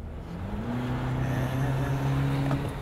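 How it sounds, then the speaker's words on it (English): A 2020 Cadillac CT5 with a 2-liter turbo four-cylinder accelerating at full throttle, its engine note droning and climbing steadily in pitch, loud and close inside the car for about three seconds. "let's move on to the important business of needlessly flooring it."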